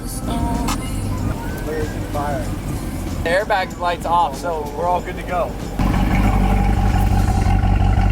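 A wrecked C8 Corvette rolls along with its engine running in a steady low drone, the sound growing louder and fuller near the end, while people talk excitedly over it.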